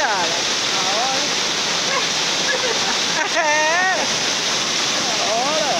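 Steady, loud rushing roar of a hidden waterfall in the Serra do Mar, filling the whole scene without pause while a voice talks over it.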